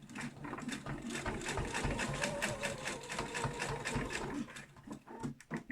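A sewing machine stitches a homemade fabric face mask, a fast rapid-fire run of needle strokes lasting about four seconds before slowing and stopping, close and fairly quiet.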